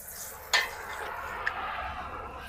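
Spices and half a teaspoon of turmeric powder being stirred in a pan, a soft continuous scraping sizzle with one sharp utensil clink early on and a lighter tap later.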